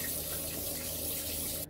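Tap water runs steadily over rice being washed in a kitchen sink, a close, continuous splashing gush that cuts off abruptly near the end.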